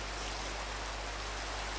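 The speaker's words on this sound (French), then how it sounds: "C'est la pluie" Steady rain in the Minecraft video game, a dense even hiss of falling drops with no variation over the short stretch and no voices.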